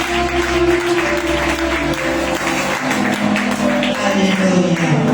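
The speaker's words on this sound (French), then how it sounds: "Est-ce que tu vas acclamer pour toi-même?" A church congregation claps and cheers, a dense, loud wash of applause that holds steady throughout, mixed with voices and a tonal hum underneath.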